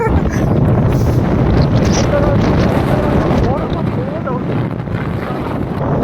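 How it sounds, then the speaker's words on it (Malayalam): Heavy wind buffets the microphone in loud, continuous rumbling gusts that ease slightly toward the end, with faint sounds from nearby beneath it, near Mattupetty Dam in Munnar. "അമ്പോ സീൻ കാറ്റല്ലേ ഇത്"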